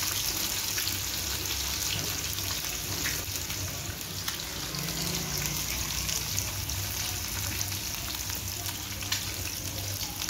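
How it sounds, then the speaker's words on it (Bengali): Fish frying in a frying pan sizzles and crackles steadily at close range, with faint talk in the background. "ভাজি হচ্ছে"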